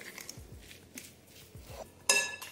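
Farmer's cheese mashed with an ordinary fork in a bowl: soft repeated scraping and tapping of the metal fork against the dish, ending with a brighter clink near the end.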